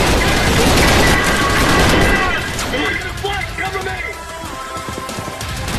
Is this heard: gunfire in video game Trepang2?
yes